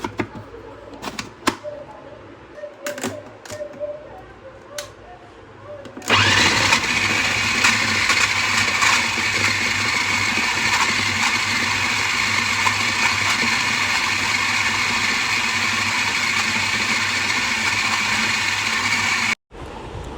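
A kitchen grinder starts up and runs at a steady, loud whir, churning a chapli kebab mixture with gram flour, after a few seconds of light handling noises and clatter before it kicks in.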